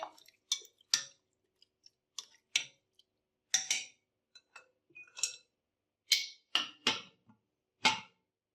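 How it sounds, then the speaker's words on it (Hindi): Beef being mixed in a pot and the lid put on, a string of sharp metallic clinks and scrapes from a utensil against the pot, irregularly spaced and fairly close, with no talking. "इन सभी चीजों को अब मैं मिक्स कर लूंगी और हम ऊपर से कवर लगा देंगे"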